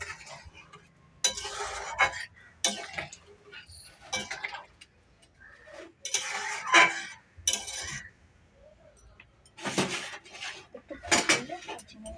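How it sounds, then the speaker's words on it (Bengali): Spoon scraping and clinking against a cooking pan while stirring spiced food after chili powder goes in, in intermittent bursts of metallic scrapes and taps with pauses between, moderately close. "আবার নেড়ে নেবো।"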